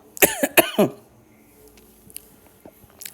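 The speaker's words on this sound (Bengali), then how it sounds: "ভীষণ কাশি হয়েছে, ঠান্ডা লেগেছে।" Three sharp coughs in quick succession from a person with a cold, loud and close, followed by a quiet room with faint background noise.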